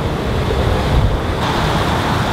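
Strong wind buffets the microphone outdoors by the water, a steady loud roar of rushing air blending with surf for the whole stretch, with no talking.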